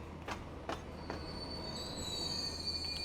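Trains rolling across a bridge in the simulation game Transport Fever 2, a steady rumble with a few brief clacks early on and a long thin wheel squeal building toward the end.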